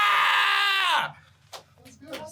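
A single loud, sustained high scream from a person in a studio interview setting, holding strong for about a second before breaking off, followed by a few brief faint sounds and near silence.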